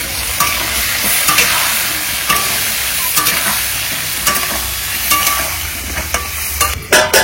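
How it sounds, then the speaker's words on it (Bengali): Potato pieces with a little turmeric sizzle steadily in a hot pan over an outdoor fire for a biryani, with scattered clicks and scrapes of stirring and a clatter near the end. "আর আলুর সাথে কিছু করার নেই"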